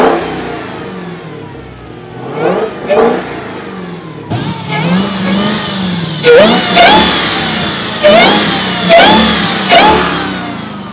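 A supercharged Dodge Demon engine revs hard several times in bursts, the exhaust roaring up and dropping back between each blip, loud and close.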